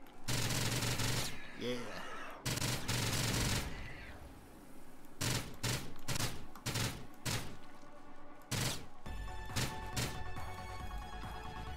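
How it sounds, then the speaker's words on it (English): Machine gun fire in the video game Strafe, loud sustained bursts of rapid shots separated by short gaps, with a brief spoken word over them. "I love me some machine guns"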